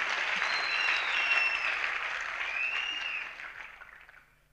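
Audience applause at a network-marketing business gathering, a dense, steady clapping from a crowd that holds for several seconds and then fades out.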